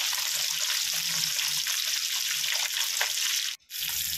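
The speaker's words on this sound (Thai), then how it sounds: "อันนี้ก็จะเป็นการทอดหัวมันนะครับหัวปลานะครับ" A tilapia fish head deep-fries in oil, giving a loud, close, continuous sizzling roar with crackling texture that cuts out briefly just before the end and then resumes.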